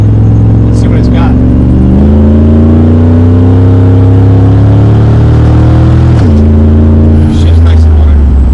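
Supercharged Gen 1 SVT Lightning truck with a Vortech blower and 200,000 miles accelerating hard, engine note climbing steadily with two firm gear shifts, loud and close from inside the cab, with people talking over it.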